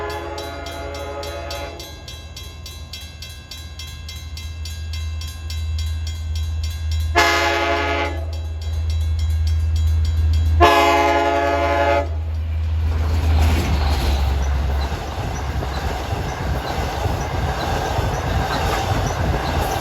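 An LIRR train, number 6013 running Montauk to Jamaica, at Oakdale: a steady low rumble of the passing train with three loud horn blasts, the second and third longer, then rising wheel and rail noise.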